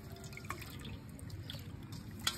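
Water trickles and drips steadily at close range while fish are rinsed and cleaned in a kitchen, a soft continuous splashing with a few brighter drops.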